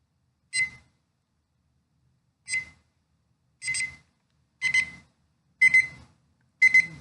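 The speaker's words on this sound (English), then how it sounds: "So you get the beeping and you get the light." An electronic timer beeps six times in short, sharp bursts. The gaps shorten and the beeps grow louder and quicker toward the end, with silence between them.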